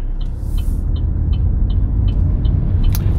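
Car in a driving-test route in Chungju pulling away after shifting into gear, a steady low engine rumble throughout with a rhythmic ticking of the turn signal and a brief higher hiss near the end.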